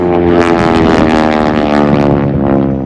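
Aerobatic propeller airplane at an air museum's WWII weekend in Reading, PA, flying at full throttle: a loud, steady, close engine drone with a rich harmonic buzz that holds constant throughout, with no voices.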